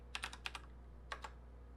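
Quiet keystrokes on a computer keyboard as a command is entered on a Windows PC, two short bursts of several quick clicks separated by a pause, close but faint over a steady low hum.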